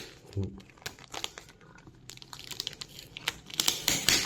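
Packaging for a Fujifilm XF35mm F2 WR lens crinkles and rustles in scattered, faint bursts close to the microphone, with soft handling taps in between.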